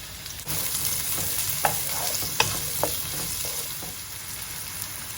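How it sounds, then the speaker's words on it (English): Red onions frying in hot vegetable oil in a pan, a steady close sizzle starting abruptly after a brief quiet moment, with a few sharp utensil clicks and scrapes along the way. "I have got some hot vegetable oil. I'm going to add a couple of red onions, and I'm going to cook this for a minute"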